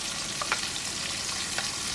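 Sliced onion and green chili sautéing in a pan for a Kerala-style fish molee, a soft steady sizzle with a few faint clicks of a spoon against the pan.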